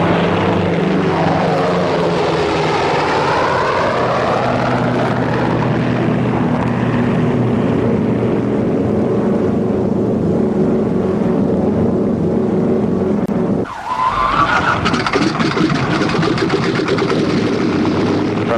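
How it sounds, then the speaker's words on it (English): American military propeller planes taking off and flying, a loud continuous droning engine roar with shifting pitch as aircraft pass, a brief dip then a fresh surge of engine noise near the end. "All American planes are ordered into the air."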